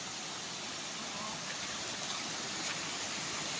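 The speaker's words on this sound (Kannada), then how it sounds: "ಹಳ್ಳದಲ್ಲಿ ನೀರು ಹಿಂಗೆ ಹರಿತಾ ಇರ್ತದೆ ನೋಡಿ" Water flowing steadily along a stream, a continuous broad hiss of running water close by with no other sounds.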